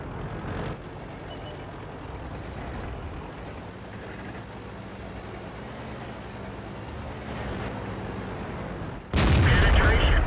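Gunfire in a World of Tanks battle: a steady rumbling engine and combat din runs throughout, ending in a sudden loud, close cannon blast near the finish.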